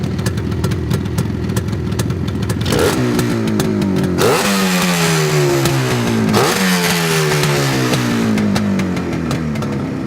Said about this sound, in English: That, my friend, is what a two-stroke's supposed to sound like.